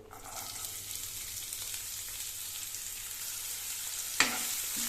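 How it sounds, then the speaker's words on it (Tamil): Small onions sautéing in oil in a pan for a bitter gourd fry, heard as an even, close sizzle that holds steady throughout, with one sharp knock of a utensil against the pan near the end. "நல்லா வதக்கிக்கணுங்க"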